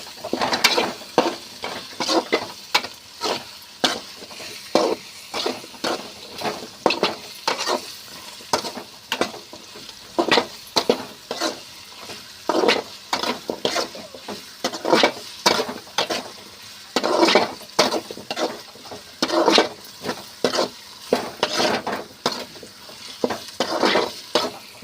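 Ginger and garlic fry in hot oil in a pan for a Tamil-style kurma, a loud sizzle broken up by repeated scrapes and clinks of a stirring spoon against the metal, close and constant.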